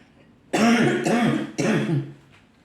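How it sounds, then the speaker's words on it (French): Three harsh coughs in quick succession, close and loud, after a moment of quiet, with a brief silence following. "Excusez-moi, j'ai encore de la toux."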